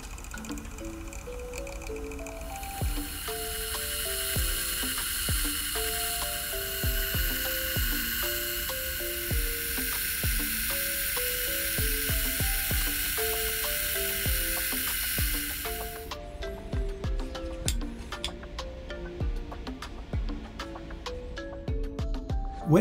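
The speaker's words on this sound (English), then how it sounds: "the cut is best carried out on the mill using a rotary table" A milling machine with a 1 mm end mill cuts a part for a Byzantine sundial-calendar on a rotary table, giving a steady high whine for several seconds over continuous background music, then stopping while the music continues.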